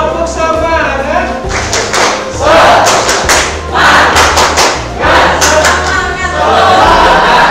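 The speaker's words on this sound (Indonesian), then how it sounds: "Tepuk semangat," A class of students in a physics lesson performs a rhythmic group clapping chant, with sharp claps in quick bursts and chanting voices, loud and close.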